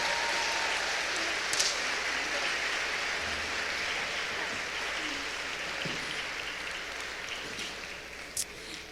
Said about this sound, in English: So can we have another applause? Otro aplauso for the harp drum line.